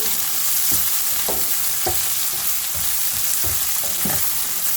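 Tomato egg drop curry mixture frying in a pan while being stirred, a dense steady sizzle punctuated by regular spatula scrapes and soft knocks, close up and with no talking.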